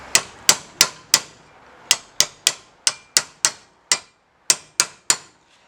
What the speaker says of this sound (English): you have to get you a ball peen hammer